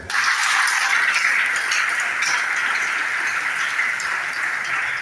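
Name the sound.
congregation applauding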